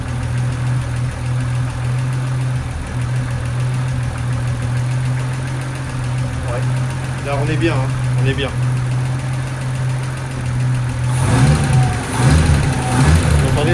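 A Citroën Traction 15 Six engine idles steadily after rocker adjustment, a continuous low running hum with a faint tick, while someone talks briefly over it and the noise grows slightly rougher toward the end.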